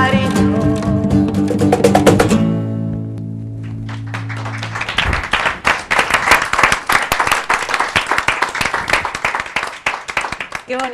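A few sustained musical chords ring out and fade, then after a short pause an audience claps in a lively patter of many hands that continues for several seconds, moderately loud and close.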